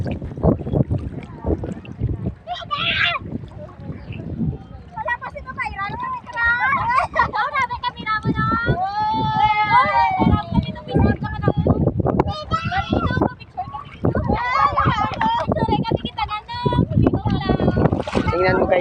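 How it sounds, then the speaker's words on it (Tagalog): Children riding a bamboo raft on water, with splashing and sloshing under constant chatter and shouts from kids and someone talking nearby. "Ganyan po gumagamit pag lumalangoy yung balsa."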